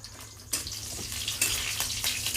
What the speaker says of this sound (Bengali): দিয়ে লঙ্কাটাকে একটু ভেজে নেব